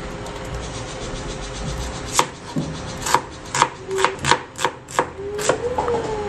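A knife chops onion on a cutting board for crispy spicy dilis, a run of crisp, close strikes in a fairly steady rhythm following a few scattered cuts and light rubbing of the blade.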